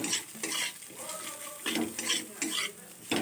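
Fried bottle gourd peel with crushed, half-broken fried lentil bori being stirred in a pan, with repeated scraping and clattering strokes over a soft sizzle, close and steady, without speech.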